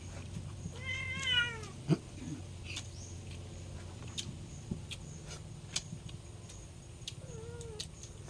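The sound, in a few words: startled cat meowing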